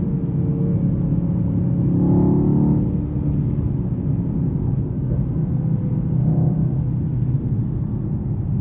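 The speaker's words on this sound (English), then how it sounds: "Wow, it takes off." Close, continuous engine roar from a 2019 Mercedes-AMG E63 S sedan accelerating hard, a deep rumbling whir that swells and eases with shifting revs.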